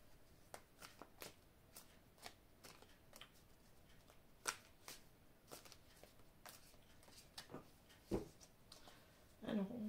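Oracle cards being shuffled by hand in a quiet room, a quick run of soft papery flicks and riffles with a few sharper slaps between them, close and moderately faint.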